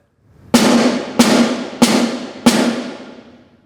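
Four loud, evenly spaced forte snare drum taps from about nine inches stick height, each crisp and sharp with a rattling decay, played close at a steady moderate tempo.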